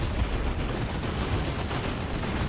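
Ork Tank Busters firing their weapons in a Warhammer 40,000 Dawn of War 2 battle against Tyranids, a continuous loud roar of overlapping blasts and explosions with no pause.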